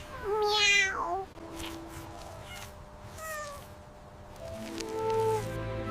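An abandoned kitten gives several high, wavering meows in close succession, loud at first and then softer cries, with no talk over them.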